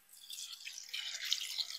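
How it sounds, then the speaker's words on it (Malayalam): Water poured into a pan of dry pepper chicken, a soft steady trickle and patter that builds over a couple of seconds, close and fairly quiet, with no talk. "ഇനി നമുക്ക് ആവശ്യത്തിന് വെള്ളം ചേർത്ത് കൊടുക്കുക"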